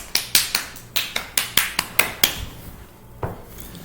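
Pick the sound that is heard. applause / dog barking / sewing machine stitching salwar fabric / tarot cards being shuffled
applause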